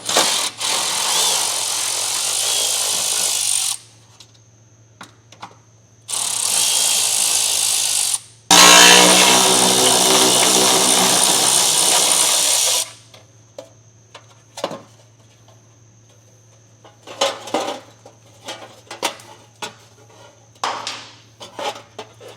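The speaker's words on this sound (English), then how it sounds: "we're going to take a 10mm socket and we're going to remove the bolts here that are holding up our heat shield" Power tool or ratchet with a 10mm socket removing heat shield bolts under a 2016 Subaru Outback wagon, heard as several loud buzzing bursts of a few seconds each, followed by scattered clicks and clanks of handling.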